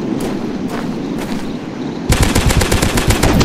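Gunfire in the Dinosaurs Hunter video game, a few loud single shots followed by a rapid, close automatic burst that runs to the end.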